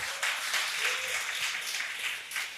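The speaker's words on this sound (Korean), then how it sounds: "우리 세종이에게 박수 한번 쳐주세요" A church congregation applauding during a sermon, a fairly soft, even spread of clapping from a distant room with no speech over it.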